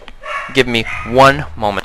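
A person speaks briefly while a dog barks in short bursts nearby, the barks overlapping the talking.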